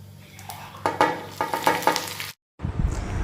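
Cumin seeds and chillies sizzle in hot oil, with crackling bursts and a few stirring clinks, then a brief gap before louder frying resumes.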